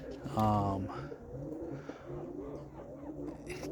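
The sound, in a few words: roller pigeons cooing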